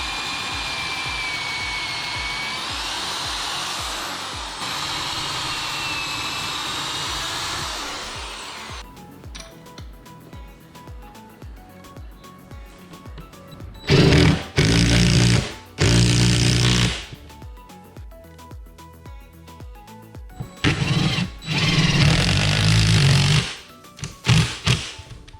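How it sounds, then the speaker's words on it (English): A power drill bores pilot holes into a wall for a black iron pipe shelf, several loud bursts of whining drilling that stop and start, separated by quieter handling noise. "I'm gonna drill my 2 pilot holes there first"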